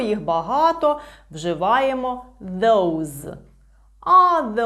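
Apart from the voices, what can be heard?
No everyday noises stand out.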